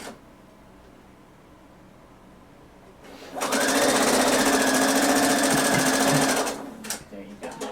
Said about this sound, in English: I'm going to do it on the sewing machine.